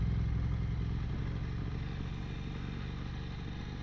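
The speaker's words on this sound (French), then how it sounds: "Le bruit moteur, c'est quelque chose." An Aprilia RS 660 motorcycle engine runs at a steady, low rumbling idle or cruise, close and continuous with no voices.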